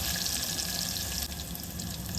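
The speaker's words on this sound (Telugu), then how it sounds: "ఆనియన్స్ కూడా రెడ్గా ఫ్రై అయిపోతే కొంచెం ఇంగు పొడి, కరివేపాకు వేసుకోవాలి." Onions fry in hot oil with asafoetida and curry leaves, giving a dense, continuous sizzle and hiss up close that dips slightly midway, with no talking.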